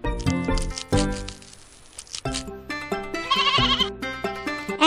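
Sheep bleating in a children's alphabet learning game, several wavering, nasal bleats in quick succession, loud and close, mixed with bright chiming game tones and short crinkly effects.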